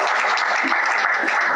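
An audience claps in a dense, steady round of applause at a film production launch event. The sound is loud and continuous, with no voices over it.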